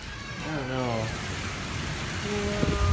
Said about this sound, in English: The rain's coming in.